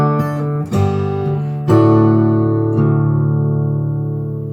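An acoustic guitar plays a short measure from Randy Newman's "When I'm Gone" without optional notes: a few strummed chords ring out clearly, the last one sustaining and fading, played solo.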